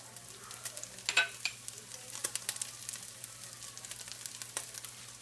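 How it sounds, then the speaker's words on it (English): Onions sizzling in a small amount of oil for a stir fry, a soft steady crackle with scattered sharper pops, quiet and close with no talking. "Then you want to add your onions."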